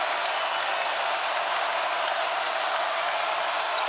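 Arena crowd at a BYU at Kansas college basketball game roars with steady, dense cheering and applause after a freshman's dunk, a continuous loud wash of noise with no gaps.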